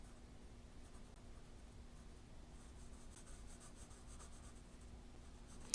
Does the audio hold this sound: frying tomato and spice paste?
no